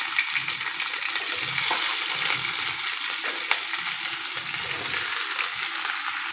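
Sliced okra (bhindi) frying in hot oil in a pan on a gas stove, a steady dense sizzle with faint stirring clicks, close and continuous with no voices.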